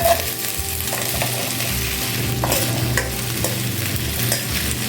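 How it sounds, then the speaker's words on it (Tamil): Okra sautéing in a little oil in a pan gives a steady close sizzle and frying crackle, broken by repeated scraping stirs of a spatula and no voices. "இப்போ வெண்டைக்காயை சேர்த்துக்கலாம்."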